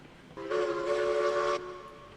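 A steam locomotive whistle in the train game Railroads Online blows one steady, clear tone of about a second, moderately loud over quiet background.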